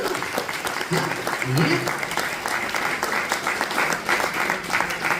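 Audience applause at a religious gathering, a steady patter of clapping from a crowd throughout, mixed with voices talking over it.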